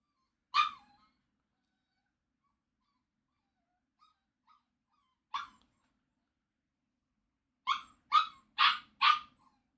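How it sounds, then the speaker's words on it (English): A puppy barks and yips in short bursts: one bark, a faint whimper, another bark, then a quick run of four louder barks close by, with quiet gaps in between. "I got a puppy."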